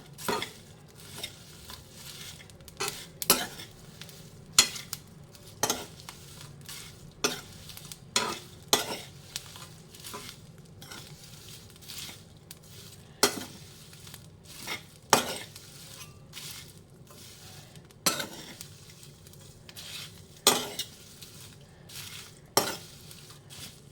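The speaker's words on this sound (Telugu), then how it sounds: "రొయ్య పట్టు ఏగుతుంది వస్తుంది కదా" Dried shrimp shells roast in a dry pan for a spice powder, heard as a quiet, faint background sizzle broken by repeated sharp scrapes and clinks of a spatula stirring against the pan, without speech.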